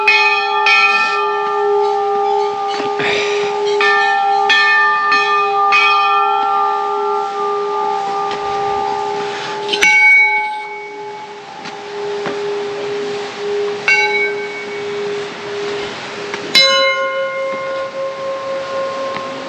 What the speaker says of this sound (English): So many bells tied to this pole,